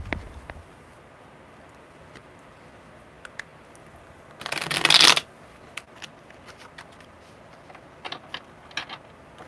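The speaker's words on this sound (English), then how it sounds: "one more good shuffle" A deck of cards is riffle-shuffled once in a quick, loud burst, with quiet handling clicks and taps before and after.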